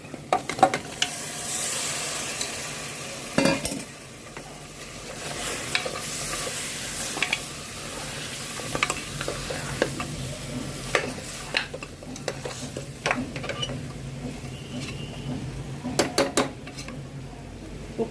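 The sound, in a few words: goat legs (mutton paya) frying and being stirred in a pan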